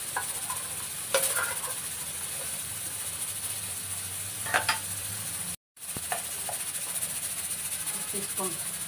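Green masala being stirred into boti meat sizzling in a pan: a steady sizzle with intermittent scraping and stirring clatter, plus a brief silent gap midway.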